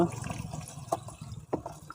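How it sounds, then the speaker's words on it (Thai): Water pours out of a basin of hatching snail eggs through a sieve, a close, steady splashing trickle with a couple of brief louder spills. "วิธีการทำก็คือเราจะเทน้ำออกจาก กะละมังที่ว่าฟักไข่หอยนะคะ โดยใช้ตะแกรงเนี่ยรอง"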